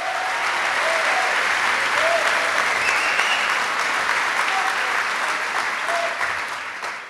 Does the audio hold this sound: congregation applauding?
yes